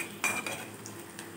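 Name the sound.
stirring and sautéing spice masala in a pan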